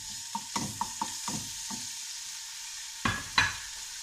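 Chicken pieces fry in a little oil in a pan under a soft, steady sizzle, with a cluster of light utensil clicks early and two sharper knocks near the end.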